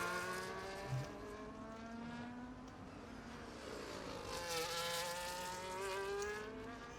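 A race car laps Imola on soft tyres in a racing video game, its high engine whine rising and falling through gear changes and corners, steady and fairly close, with a faint tyre squeal.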